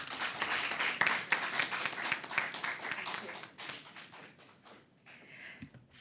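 An audience applauds the winning debate team, Antigua Girls High School, at a school debate encounter with a dense burst of clapping that thins out and fades over several seconds.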